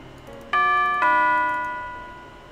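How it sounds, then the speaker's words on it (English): A two-note doorbell chime from the video game Nekopara Vol.1 rings out clearly, the first tone struck and then a second that lingers and fades, with no talking over it. "Oh, look, the doorbell!"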